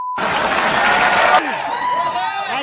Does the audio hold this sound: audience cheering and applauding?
yes